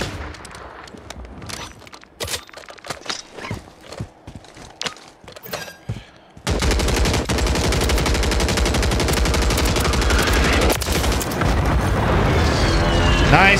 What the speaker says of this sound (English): I'm giving you covering fire.